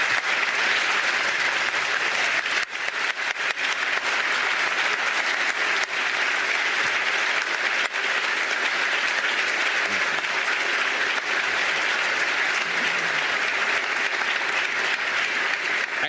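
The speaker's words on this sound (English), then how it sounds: "Please join me in applauding her years of service to this state." Sustained audience applause at a State of the State address, a dense, steady wash of many hands clapping that holds for the full stretch without a break.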